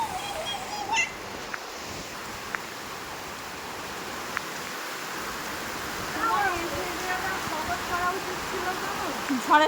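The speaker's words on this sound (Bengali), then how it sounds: "একটা বৃষ্টি পড়ছে" Rain falls steadily during a storm near a pond and trees, making a continuous, even hiss. A few faint clicks and voices come through the downpour.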